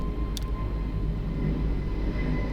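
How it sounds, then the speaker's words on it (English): Airplane passing overhead above a house, a low continuous rumbling drone that holds steady and fairly loud throughout, with a brief faint high tick early on. "An airplane is currently passing and it's really noisy right now"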